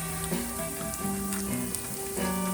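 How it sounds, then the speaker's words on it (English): Beans sautéing in hot oil for vegetarian Jamaican rice and peas, a steady close sizzle with crackling spatters and tonal hum throughout, no talk. "Sautéing the beans in the oil"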